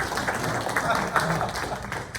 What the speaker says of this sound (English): Give a big round of applause to this great senator